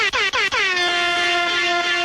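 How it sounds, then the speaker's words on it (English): A loud air horn blasts three short times, then holds one long, steady blare that slowly fades. "I hope the air horns are very loud and very annoying."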